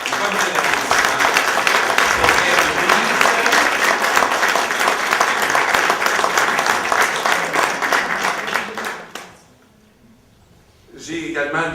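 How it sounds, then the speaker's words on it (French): An audience at an oratory debate applauds the team arguing in favour, loud sustained rhythmic clapping that runs for about nine seconds, drops abruptly to near silence, then a brief sound returns at the end. "je crois qu'un bon mot d'applaudissement, comme de l'applaudissement"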